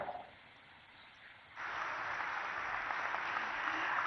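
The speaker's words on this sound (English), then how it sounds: "I think we can put our hands together for louder applause there" Applause from an audience at the inauguration of an engine MRO facility, a steady dense wash of clapping that swells partway through and keeps going, moderately distant with no talking over it.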